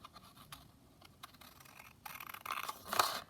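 Scissors snip through a piece of bingo card for a handmade men's birthday card, a few quiet scratchy cuts building to a louder crisp snip near the end, with no talk.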